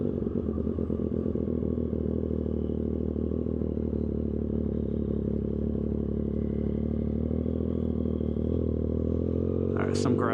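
Triumph 765RS motorcycle with an aftermarket exhaust and tune, heard from the rider's seat as a steady, loud engine drone with rumbling exhaust note and wind buffeting throughout.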